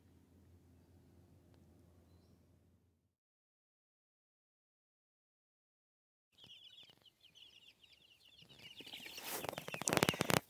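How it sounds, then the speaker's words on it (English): Domestic ducks kept in a container at a homestead cabin site, heard as a scattered burst of quacking and fowl chatter that builds up loud and close after a quiet gap. "get another container for the ducks"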